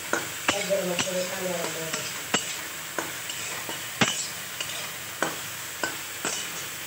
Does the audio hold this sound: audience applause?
no